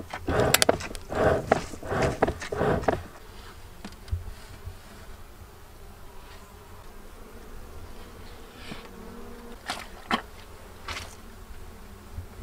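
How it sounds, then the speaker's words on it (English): Honeybees buzzing around an open beehive during a weekly hive inspection, a faint steady hum with close, louder passes and a few handling knocks early on. "We're out here doing our beehive inspection for the week."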